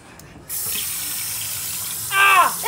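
Water runs steadily from a tap over a cut finger into a sink, a constant hiss with a brief sharp sound near the end.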